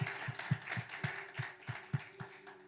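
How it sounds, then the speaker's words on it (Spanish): A church congregation claps to welcome first-time visitors, the faint, reverberant claps landing in a steady, regular rhythm of roughly four per second over a low room hum, with no talking. "Les damos un aplauso a los hermanos que nos visitan por primera vez"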